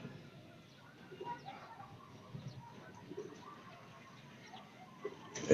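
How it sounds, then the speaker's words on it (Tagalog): Racing pigeons coming home to the loft after a race from Atimonan, Quezon, with soft scattered rustles and faint bird sounds close by, and quiet voices now and then. "nagdadatingan na po yung mga kalapati ngayon"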